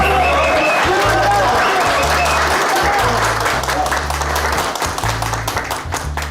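An audience bursts into loud, dense applause that carries on steadily and begins to thin toward the end, with a low rhythmic music bed and some voices underneath.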